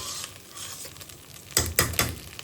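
Rice in a pot is turned over with a utensil, giving soft frying crackle and then three distinct scraping stirs close by, with no voices.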